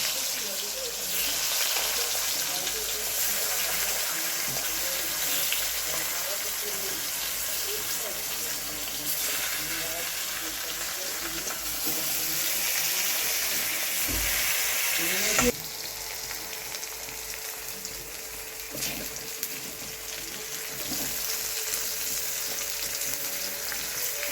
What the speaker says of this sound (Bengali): এবার আলুগুলো ভাজবো, আর যে কটা বেগুন আছে একবারেই ভেজে নিয়ে দিয়ে যাবো।